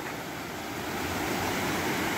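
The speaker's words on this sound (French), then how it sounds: "Ces petites cascades qui se suivent avec la grande juste au-dessus." A series of small waterfalls cascading one after another beneath a larger fall in Savoie, a steady broadband rush of falling water, close and even, with no voices.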